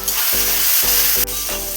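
Chopped tomatoes fry in a pan with a loud, close, steady sizzle, briefly dipping a few times as the pan is stirred or the pieces are added.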